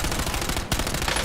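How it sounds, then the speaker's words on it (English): A dense, continuous roar of automatic gunfire from a shooter video game, loud and close, with a brief dip partway through and then an unbroken run of shots again. "I'm under fire."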